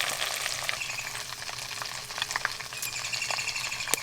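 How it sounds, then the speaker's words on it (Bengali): Spiced chicken pieces fry in deep oil in a kadai, a constant bright sizzle with crackling pops and occasional stirring sounds, close and steady. "মশলা মাখানো চিকেন এরকম ছাঁকা তেলেই ভাজতে হবে"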